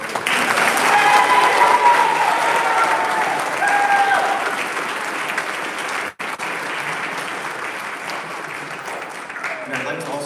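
An audience applauds at a high school spring band concert, sustained dense clapping from a full hall that gradually thins after several seconds, with a brief dropout midway and faint voices near the end.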